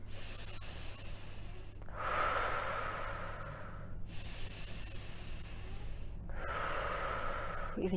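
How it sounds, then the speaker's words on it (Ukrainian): Heavy breaths during a guided breathing exercise come as two long, loud, hissing airflow bursts, close to the microphone, separated by a quieter pause with a low steady hum underneath. "Нормалізуємо дихання."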